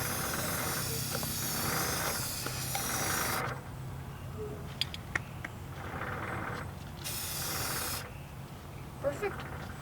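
Spray paint is sprayed onto steel wheel spacers on a Kubota L6060 tractor, loud hissing bursts from the can alternating with quieter gaps of outdoor background and faint clicks, close by.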